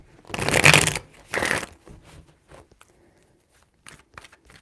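Tarot cards are shuffled in two loud, crisp riffling bursts close by, followed by a few faint taps and soft handling noises.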